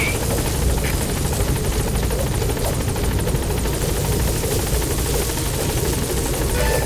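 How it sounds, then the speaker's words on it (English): A video game helicopter in Metal Gear Solid V arrives, its rotor thumping steadily and loudly at close range, a constant chopping drone that fills the whole stretch without letting up. "Support helicopter has arrived."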